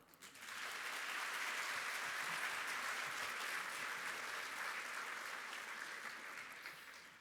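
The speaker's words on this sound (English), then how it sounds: "You may now applaud." A crowd at a community college commencement breaks into sustained applause, steady clapping filling the room for several seconds before beginning to fade.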